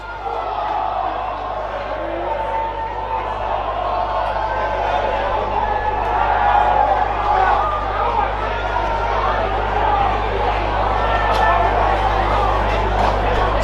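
Football grand final crowd in Adelaide, Division 3 between Flinders Park and Modbury, a loud continuous roar of cheering, whoops and chanting voices with general chatter, with a low steady hum underneath.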